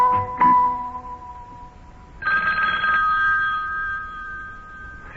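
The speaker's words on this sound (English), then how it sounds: "telephone's ringing again" An old-time telephone bell rings in a radio drama, set in a living room. A short ring comes first, then after a pause a longer, sustained ring, close and clear with no talking.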